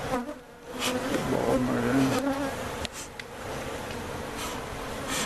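Honey bees buzz steadily around an opened hive in a club apiary during a frame inspection, a close, continuous insect drone with people talking over it.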